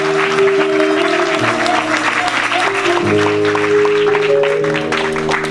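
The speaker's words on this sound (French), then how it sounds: "Donnons des acclamations, Seigneur." Loud, sustained applause from a congregation at a church wedding ceremony, continuous clapping over steady musical tones throughout.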